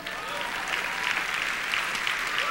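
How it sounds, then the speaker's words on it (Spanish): A church congregation applauds during a Spanish-language sermon, a steady, moderately loud patter of many hands clapping alone, with no voices over it. "Ahora dele un aplauso al Señor."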